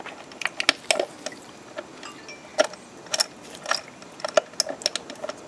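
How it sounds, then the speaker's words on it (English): A ratchet wrench clicks while spark plugs are removed from a 2006 Cadillac CTS 3.6L engine with the intake off. Close, irregular bursts of ratcheting and metallic clinks come with short pauses between them, and no one speaks. "Now we're just pulling out the spark plugs."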